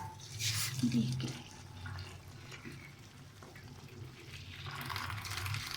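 Water trickles and splashes as cooked lentils are drained through a strainer, with soft dripping and faint clatter nearby.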